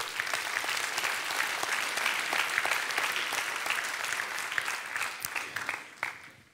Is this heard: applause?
yes